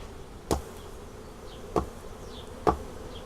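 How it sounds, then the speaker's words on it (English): Honey bees buzz faintly in the air with a soft drone during a hive inspection, broken by three sharp knocks spaced about a second apart. "Now we've got a few bees airborne."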